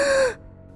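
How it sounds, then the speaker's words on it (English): A woman's sharp, breathy gasp as she wakes, brief and close, cutting off after a third of a second into near silence. "She woke up with a gasp"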